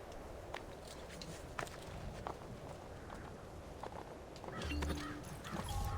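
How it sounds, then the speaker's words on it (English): Horse hooves clip-clop at a walking pace in Assassin's Creed 2, played on Xbox Series X: light, irregular taps over a low game ambience, swelling slightly louder near the end. "Can I in fact ride this horse?"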